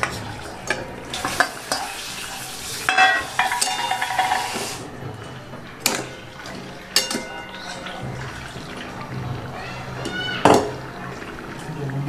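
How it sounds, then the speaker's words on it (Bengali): Fish going into a cooking pot of simmering food, with sizzling, bubbling and spoon stirring up close, a few sharper clatters and knocks along the way. "এবার এর মধ্যে মাছগুলো দিয়ে দেবো।"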